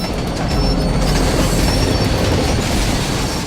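A runaway freight train rolling downhill in San Bernardino after losing its dynamic braking, giving a loud, steady roar of rail noise with faint squealing tones above it and no talk.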